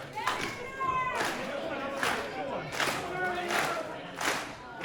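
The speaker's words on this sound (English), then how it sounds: "Cremator getting these fans involved, getting them to clap for him" Wrestling fans at a VIPW show in Victoria clap in steady rhythmic bursts about once a second, a crowd-wide clap under ongoing voices and arena noise.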